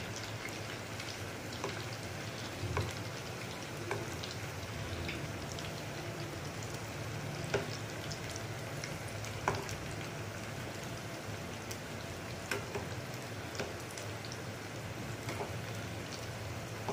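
Poha pakoras sizzle steadily in hot oil as they are turned one by one, a continuous close crackle with occasional small pops and clicks throughout.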